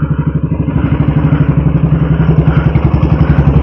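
An old Royal Enfield Bullet single-cylinder motorcycle revs hard in first gear, its loud, close thumping exhaust pulsing in a steady rapid beat that climbs slightly, with the clutch slipping and no talk.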